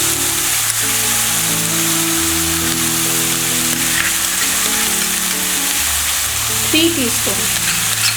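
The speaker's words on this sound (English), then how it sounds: "And again I am going to saute the masala nicely" Onion and ginger garlic paste masala sautéing in a pan for tandoori chicken do pyaza, a steady loud sizzle with scraping stir strokes, while a voice talks briefly over it.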